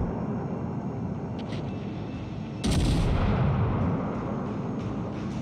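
Warship guns firing at a cruiser in World of Warships, a deep booming salvo rolling over a constant low rumble of battle, loud and close.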